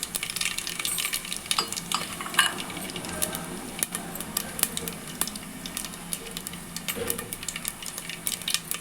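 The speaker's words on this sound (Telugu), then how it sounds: "ఇప్పుడు ఆయిల్ బాగా హీట్ అయింది ఇందులో ఆవాలు జీలకర్ర రెండు ఎండుమిర్చి వేసుకోండి" Mustard seeds, cumin and two dried red chillies spluttering in hot oil, a steady sizzle with sharp crackling pops and occasional scrape of a spoon stirring the pan, close and continuous for nearly nine seconds with no voices.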